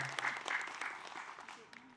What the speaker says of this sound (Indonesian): Tepuk tangannya sekali lagi.